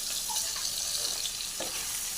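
Pigeon meat fries in a pan with a steady, close sizzle, broken by soft scrapes and stirs of a spoon through the hissing oil.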